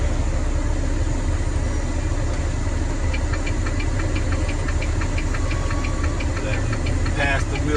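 A truck's diesel engine runs loudly in neutral during a manual-shifting lesson, a constant close rumble with a knocking rattle, while voices talk over it.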